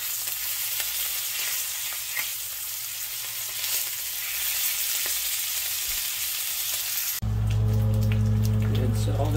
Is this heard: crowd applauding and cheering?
no